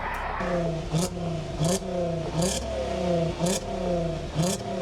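A VR6 engine in a swapped Volkswagen Scirocco revs repeatedly, rising in pitch with each pull and dropping at regular gear changes, loud and close, with a steady droning hum underneath.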